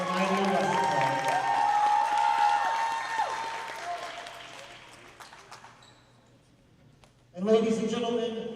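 A crowd applauds at a charter school boys basketball state semifinal, a sustained clapping roar under an announcer's amplified voice that fades out, then swells again near the end.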